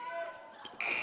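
Game-end buzzer at a girls' varsity high school basketball game, a short loud electronic blare near the end following crowd and commentary noise.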